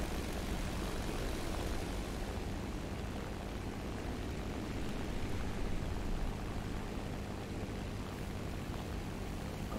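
A damaged engine on a Ju 87 R-2 dive bomber in the War Thunder video game gives a steady, dense broadband roar that stays loud and unbroken from start to finish.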